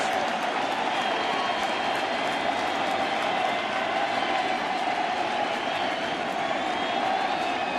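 A huge baseball stadium crowd at a 2009 World Series game in Philadelphia roars steadily, a dense, unbroken wash of cheering and noise holding at a constant high level throughout.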